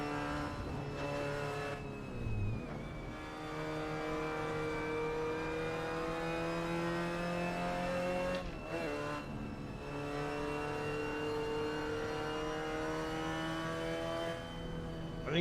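Mazda MX5 engine in the driving game Assetto Corsa, a steady mid-level drone that climbs and drops through a few shifts while cruising a canyon road, playing alone without talk.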